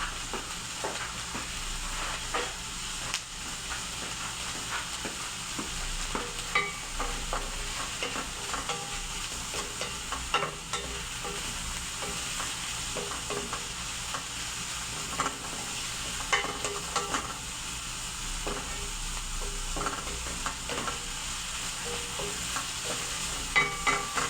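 Béchamel sauce is stirred in a pan, a steady close bubbling and sizzling texture with frequent small scraping clicks from the utensil running throughout.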